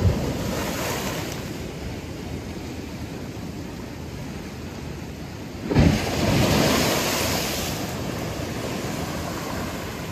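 Ocean waves crash against the Guánica seawall in Puerto Rico after a hurricane, a steady roar of surf and wind with one heavier wave breaking loudly past the midpoint.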